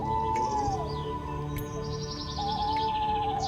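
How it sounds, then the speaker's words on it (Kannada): Birds chirp and tweet in the early morning, with short sweeping calls and trills coming and going at moderate distance over a soft, steady background. "ಪಕ್ಷಿಗಳ ಚಿಲಿಪಿಲಿನಾದ"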